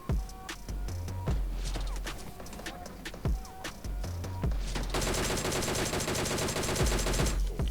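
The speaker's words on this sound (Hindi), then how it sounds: "अब उस बंदे की मिनी 14 चलाने की फायर आएगा।" Mini 14 rifle fire in PUBG Mobile: sharp, loud shots repeat at irregular intervals over game music and ambience, then a dense, sustained barrage of gunfire fills the last few seconds.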